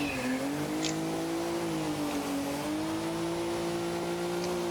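A race car drifting on the 2024 Drift Masters Spain layout, its engine holding a steady, loud drone that wavers slightly in pitch, heard from inside the car with no voices.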